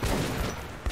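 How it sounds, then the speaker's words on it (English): Gunfire from the video game Metro 2033 Redux: a dense, continuous burst of shots, loud and close, running through the whole short moment. "I'm getting shot."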